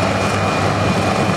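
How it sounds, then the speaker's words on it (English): Aircraft rotor and engine drone from a police-style chopper circling and hovering low over a flooded beach, a steady loud whir filling the whole moment with no talk. "The chopper came from behind us. He goes over us, stops, turns around, just hovers looking at us."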